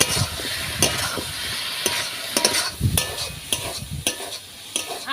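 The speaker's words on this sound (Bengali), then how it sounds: "এবার মশলার সঙ্গে আলুটা ভালো করে কষে নেব" Potatoes stir-fried with spices in a village kitchen pan, scraped and stirred with a spatula in irregular strokes, sharp clatters over a steady close sizzle with no voices.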